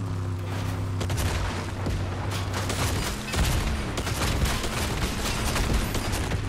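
Rapid overlapping gunfire and booming blasts from a Fortnite match fill the whole stretch, loud and dense with bursts layered together and no break in the shooting.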